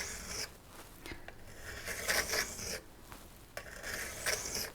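A hand stone slides along a figure skate blade in a few slow, even rubbing strokes, faint and close with short pauses between passes.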